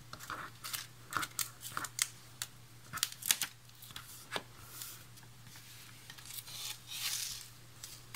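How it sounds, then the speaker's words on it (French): Protective liners being pulled off double-sided tape on a scrapbooking pop-up album page, a series of short crisp tearing and peeling snaps, close and fairly quiet over a faint steady hum. "Il ne me reste plus qu'à tirer sur les protections pour tout faire adhérer."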